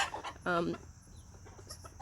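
A Salmon Faverolles hen gives a short, soft cluck amid quiet background sounds, with faint other noises around it.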